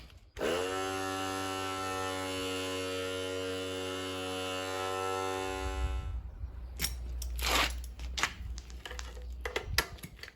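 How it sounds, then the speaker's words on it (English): Small air compressor running to inflate a large 35-inch tyre, a loud steady electric hum and drone that cuts off after about six seconds, followed by clanks and handling noises. "Get your compressor running."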